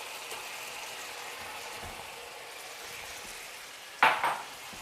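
Food frying faintly in a pan for chow mein, with a steady soft hiss, then shrimp drop in near the end for a brief, sharp burst of sizzling and a clatter of utensils.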